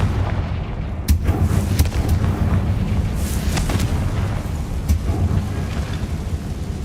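Confringo blasting curse explosions in Hogwarts Legacy: a loud, continuous run of heavy booms and sharp cracks, several distinct bursts standing out over a rumbling backdrop, with no talking.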